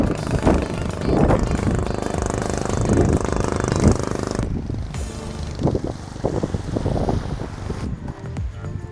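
Steady wind buffets the microphone throughout, a loud rumbling roar with gusts, with water or waves faintly underneath.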